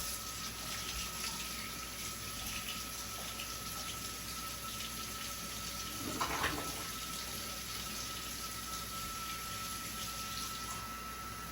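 Steady broadband rush of warm, near-hot water streaming from a kitchen tap to measure a cup for pizza dough, continuous and close, with a brief splash or clatter partway through.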